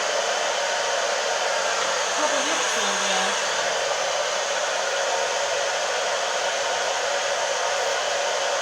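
Hair dryer fitted with a diffuser, drying hair, blowing as a loud, steady, unbroken roar throughout with no talk over it.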